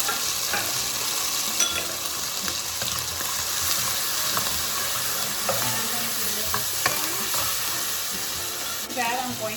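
Salami fries in a pan as tomato sauce goes in. A steady, close sizzle carries throughout, with occasional scraping and stirring clicks and no clear talk.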